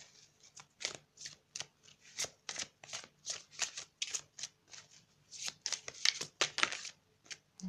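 Tarot cards being riffled and shuffled by hand: a steady run of close, crisp flicking bursts in an irregular rhythm, quiet, with no talk.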